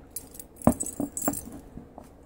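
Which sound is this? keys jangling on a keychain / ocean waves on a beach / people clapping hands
keys jangling on a keychain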